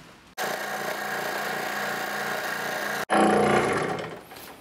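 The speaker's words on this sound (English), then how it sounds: "I'm using a scroll saw." A scroll saw cuts a negative carrier, making a loud, steady buzzing motor drone with a rapid reciprocating rattle. It pauses briefly, then resumes more harshly before winding down.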